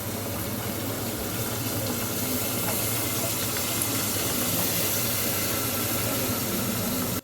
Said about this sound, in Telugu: ఇప్పుడు చింతపండు రసం మనం దీంట్లో వేసుకుందాం.